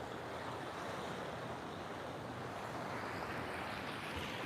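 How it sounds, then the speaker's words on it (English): Ocean waves surge and wash steadily onto a Gold Coast beach, a constant broad roar of surf with wind noise across the microphone, heard without any voices. "look at this wave out the back"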